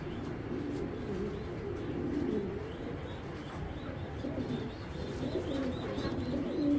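Low, rolling coos of racer pigeons recur throughout, close and steady, layered over a constant murmur of background noise.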